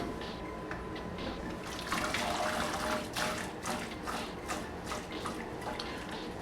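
Cooked spaghetti and its hot water poured out of a pot, a steady rushing splash of liquid running continuously at close range with no talk.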